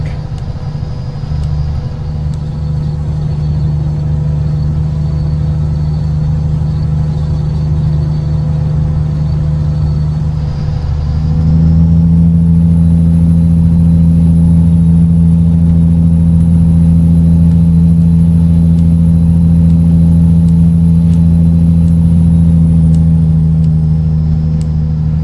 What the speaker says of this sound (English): you can hear the sound and the engine sounds through the exhaust pipes.